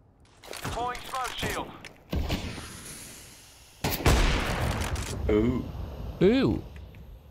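Bursts of gunfire in Counter-Strike 2 break out in short volleys, several loud cracks and rattling shots spread across the clip, with people chatting over and between them.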